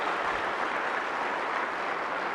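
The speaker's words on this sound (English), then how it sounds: "If you feel very positive, clap loud and many times." An audience at a lecture at an economics conference claps together in a dense, even wash of applause that holds steady and fairly loud for the whole span, with no talking.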